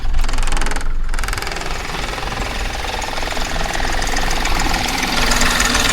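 The engine of a Hyundai Xcent car runs after starting, a loud, steady, rough knocking rumble with dense mechanical clatter, heard close and continuous, with no voices.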